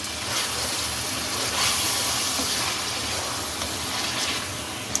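Tamarind soaking water poured over potato curry in a pan makes a steady, close splashing and hissing pour that lasts throughout.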